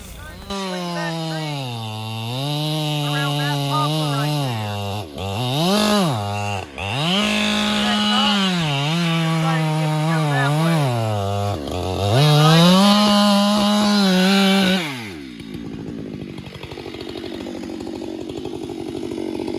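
Chainsaw cutting a white oak tree off the hinge, loud and close, the engine revving up and down in repeated surges before cutting out, leaving quieter rustling and crackling at the end.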